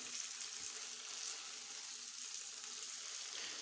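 Goat brain masala cooks in a pan with a steady, soft sizzle and hiss of frying that stays even throughout, with no voices heard.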